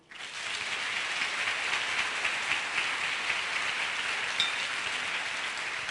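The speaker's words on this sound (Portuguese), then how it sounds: "Aplauda o Senhor." Church congregation applauding together in a steady, dense roar of clapping that fills the space for several seconds with no voices.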